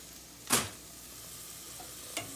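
Italian sausage sizzling in a hot cast iron pan, a faint steady frying hiss broken by two brief louder scrapes as it is stirred, close by.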